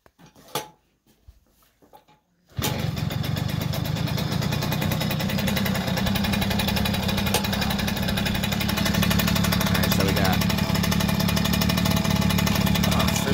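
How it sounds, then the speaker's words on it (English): A 2001–2009 Suzuki JR 50 dirt bike with a first-gear mod starts up after a couple of seconds of quiet handling noise, then runs steadily and loudly up close, a continuous buzzing two-stroke idle that holds to the end. "The bike runs really good. Fire it up."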